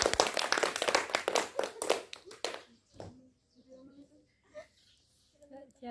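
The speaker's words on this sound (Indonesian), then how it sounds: "Ayo tepuk tangan bersama-sama" Children in a science classroom clap hands together in a quick, fairly loud burst lasting a couple of seconds, then it falls to quiet with faint scattered voices.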